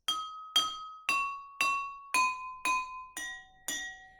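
Eight bright tones ring out as water-filled drinking glasses are struck with a spoon one after another at a steady pace, each clink sustaining briefly, the pitch stepping lower as the series goes on.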